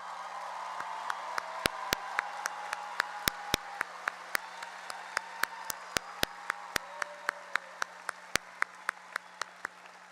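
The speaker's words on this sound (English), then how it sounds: "please stand so we can recognize and applaud your achievement" At a high school graduation ceremony, scattered hands clap in a sparse, uneven patter of distinct sharp claps, fairly close, over a quiet steady hum and faint murmur.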